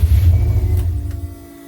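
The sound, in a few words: stroked flat-four engine in Peugeot build, first start running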